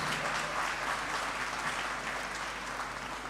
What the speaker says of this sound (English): Shall we give them a round of applause?